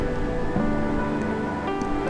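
Kozhippara waterfall tumbles over rocks in several tiers, making a steady broadband rushing wash with no pauses, moderately loud and close, with a faint tonal hum running underneath.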